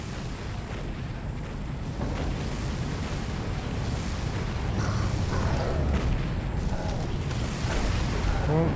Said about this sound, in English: The explosions are coming from the wrong way.